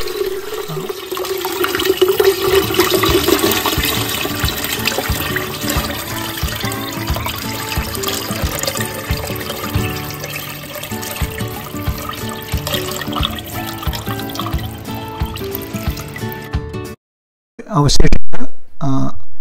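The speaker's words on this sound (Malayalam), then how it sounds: "നമ്മൾ സ്റ്റില്ലിലേക്ക് ഒഴിക്കുന്നത് ചെറിയൊരു അരിപ്പ് വെച്ചിട്ടാണ്." Liquid from fermented bakery waste poured through a small strainer into a still, a steady, loud splashing stream that runs continuously before cutting off near the end.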